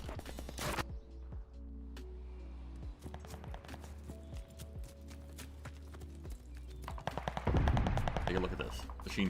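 Rapid bursts of machine pistol gunfire crack through a Call of Duty Vanguard multiplayer match, mixed with footsteps and other game sounds, with a heavier burst of shots near the end.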